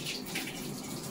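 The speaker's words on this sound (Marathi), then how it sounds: "चणा डाळीचं पाणी ओतून देते" Soaking water is poured off chana dal in a home kitchen, making a steady, close splashing pour that runs without break for about a second with no voices.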